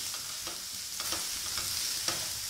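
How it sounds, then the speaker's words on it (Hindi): Onions fry on a medium flame, browning for achari paneer, with a soft, steady sizzle and occasional light stirring clicks, quiet and close, no voices. "प्याज को हमें गोल्डन ब्राउन कलर होने तक भूनना है,"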